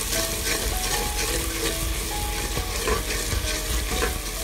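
Fried onions with dry spices, including turmeric, get stirred in a pan for potato and spinach, giving a dense continuous sizzle under steady scraping and stirring, close and loud throughout.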